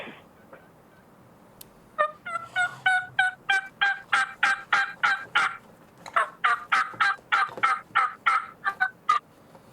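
A Cheating Hen turkey call sounded before turkey season, producing two long runs of rapid, evenly spaced yelps, loud and close, with a short pause between the series.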